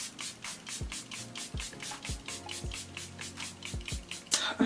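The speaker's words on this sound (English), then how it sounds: "Spray my face." Setting spray mists onto a face in quick repeated bursts, a rhythmic series of soft hissing pumps roughly every half second, close and fairly quiet, with a slight clatter near the end.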